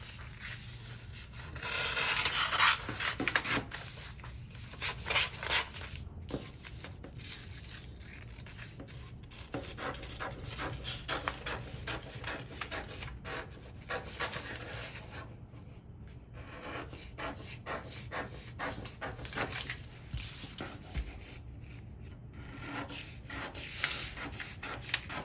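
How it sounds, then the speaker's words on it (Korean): A paper sewing pattern is cut out with scissors, giving a long series of close, dry rasping snips and rustles in an uneven rhythm with brief pauses. "패턴을 먼저 잘라 볼게요."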